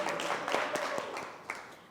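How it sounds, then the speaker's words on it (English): Audience at a creative-confidence lightning talk giving a short round of applause, a soft, somewhat distant patter of many hands clapping for about two seconds, no talk over it. "Round of applause for everybody."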